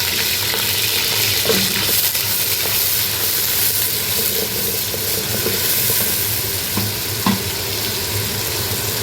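Sliced onions sizzle in about a cup of hot oil in a pan for kari pakora, giving a loud, continuous frying hiss with faint occasional stirring clinks and no voices.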